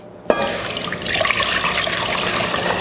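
Sweet tea poured into a pot, a steady, close splashing rush of liquid that starts abruptly and keeps flowing.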